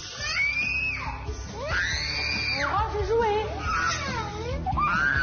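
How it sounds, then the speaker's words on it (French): Young children scream shrilly at home in a family of four kids, long piercing rising and falling wails that fill the clip, loud and close, with a child's brief speech mixed in. "ces hurlements, ces cris stridents, mais c'est fatigant, ça."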